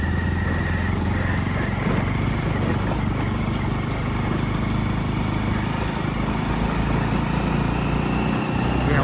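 A sports motorcycle rides a rain-wet mountain road in West Bengal, its engine droning steadily and fairly loud alongside wind and road roar for the whole stretch, with no talking.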